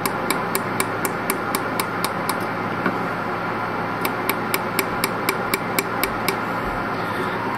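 Laser welder fusing wire onto a dental space maintainer, firing a steady series of sharp, evenly spaced clicks in two bursts of about a dozen pulses each over a continuous background hum.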